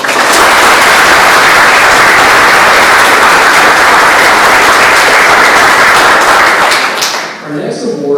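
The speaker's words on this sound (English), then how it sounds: "Let's give them all one more round of applause." Loud, sustained applause from an audience at a historical society awards ceremony, a dense wash of clapping that holds steady for about seven seconds before tapering off at the end.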